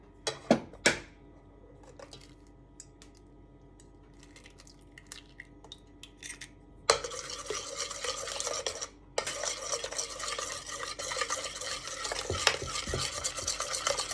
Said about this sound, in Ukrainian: Добре перемішуємо.